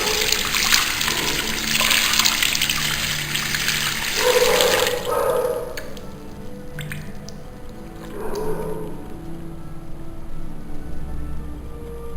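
Water runs and splashes steadily from a tap as makeup brushes are rinsed, with wet squishing and dripping throughout, close and moderately loud.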